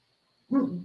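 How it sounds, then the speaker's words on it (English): A single short dog bark, fairly close and moderately loud, heard alone in a quiet room. "excuse my dog there if you hear that"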